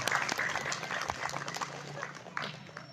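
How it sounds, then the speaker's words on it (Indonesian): A fairly quiet, scattered round of audience applause at a Sundanese-language religious lecture during a Muharram celebration, with voices and crowd murmur mixed in. "tepuk tangan buat Kang Ajengan Latif"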